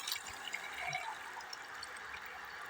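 Water running steadily from a newly drilled 9.5-metre-deep well, a constant soft flow with faint splashing and drips, quiet and alone.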